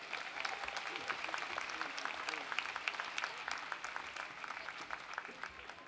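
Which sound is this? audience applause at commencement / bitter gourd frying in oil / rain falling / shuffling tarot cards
audience applause at commencement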